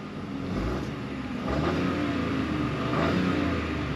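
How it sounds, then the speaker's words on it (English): A 2023 Chevrolet Trailblazer's 1.2-liter turbocharged three-cylinder engine runs steadily at close range, a low, even drone that swells slightly in two steps as it revs a little. "let's go ahead and kind of hear this 3-cylinder turbocharged engine"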